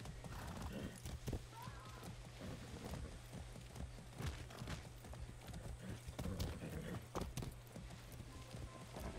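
A horse in the video game Far Cry 6 gallops with steady hoof clatter and lets out a neigh, while someone talks over the hoofbeats against a soft rainy backdrop.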